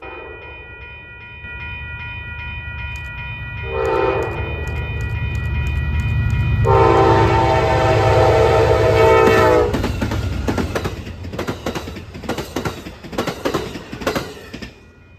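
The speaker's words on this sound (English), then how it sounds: "A train that I usually see, the eastbound Lakeshore Limited, just so happened to have a Horizon car on the rear with a friendly crew." Amtrak's eastbound Lake Shore Limited passenger train, with a Horizon car on the rear, passes at a rail interlocking in Grafton. A loud horn chord blares for about three seconds, then the cars rumble and clatter by, with rhythmic rail clicks toward the end.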